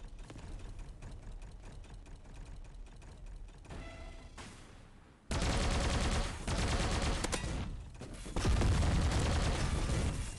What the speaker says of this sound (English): Wow, this gun is extremely powerful.